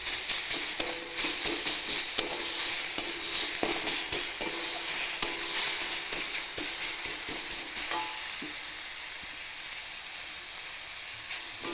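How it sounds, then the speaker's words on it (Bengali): Onions with salt and ginger-garlic paste sizzle steadily in a pan while being stirred, with a constant hiss broken by repeated scraping clicks of the spatula, close and continuous with no talking. "পেঁয়াজটা এমন ভাজা ভাজা হয়ে যাবে"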